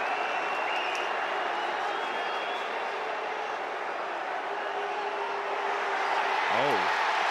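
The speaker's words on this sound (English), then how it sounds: "The fans at TCU are cheering." Fans in the TCU stadium cheering and applauding in a broad, sustained roar, fairly distant and even throughout, with a brief whistle near the end.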